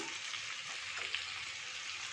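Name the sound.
spices frying in a pan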